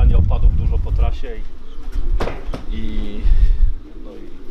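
Racing pigeons at a loft give throaty coos and a few brief chirps nearby, mixed with someone talking and scattered handling noise.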